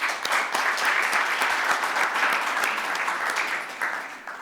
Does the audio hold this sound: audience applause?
yes